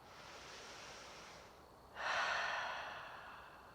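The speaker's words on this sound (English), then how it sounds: "bringing your thoughts back to the sound of your Ujjayi breathing" Ujjayi yoga breathing during an outdoor yoga session at Moraine State Park, Pennsylvania: a soft, steady breath followed by a louder, rushing breath, close and alone.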